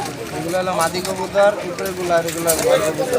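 Pigeons coo in a busy Tongi pigeon market in Bangladesh, their soft repeated calls weaving through the crowd while voices chatter close by throughout.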